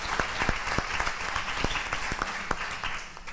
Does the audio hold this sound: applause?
yes